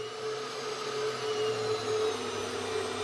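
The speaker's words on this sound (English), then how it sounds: "You can hear the spindle." A CNC 3020 spindle motor spins steadily with a smooth, sustained motor whine and hum, accompanied by a cooling fan, heard close and alone.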